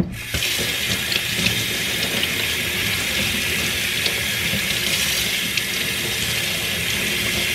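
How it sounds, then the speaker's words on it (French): Broccoli is rinsed head down under a running kitchen tap, a steady loud splashing gush of water that starts abruptly and flows on continuously without pause, with no voices. "Allez, je vais venir rincer mes brocolis."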